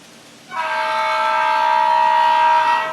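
A Kato N gauge DCC locomotive circling a medium-sized track loop sounds a steady, bright horn-like tone that starts after a brief quiet moment and holds clearly for about two and a half seconds, with no talking.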